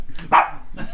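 Gizmo, a guard dog, lets out one sharp loud bark close by, with softer vocal sounds before and after it, amid a noisy room.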